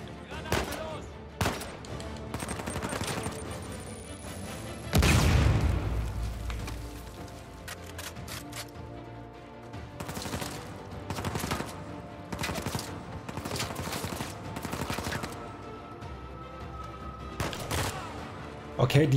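Rapid bursts of weapon fire from a shooter in Uncharted 4: A Thief's End, loud and repeated across the stretch with short gaps, sharp cracks mixed with heavy low thumps and debris, with some voices underneath.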